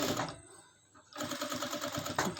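A sewing machine does a straight stitch on a frock with a fast, even rattle up close, pausing briefly before running again just as loudly.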